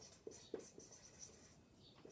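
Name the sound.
writing on paper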